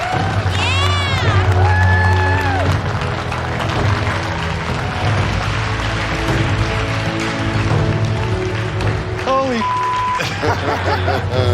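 MasterChef competitors cheer in the kitchen in a loud, sustained crowd roar of shouts and whoops, with whistles and a voice talking over it.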